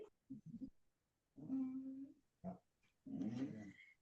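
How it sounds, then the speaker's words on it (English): A dog whimpering and fretting indoors, with short whines and longer drawn-out cries coming in bursts, fairly faint and close by. "My dog gets all upset when I start going, oh, hi, bye. He's freaking out."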